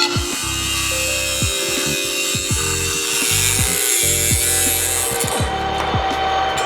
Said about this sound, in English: and then we'll start cutting again